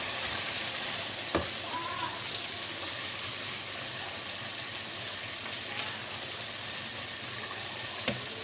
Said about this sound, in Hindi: ये मैं प्याज डाल रही हूँ इसमें।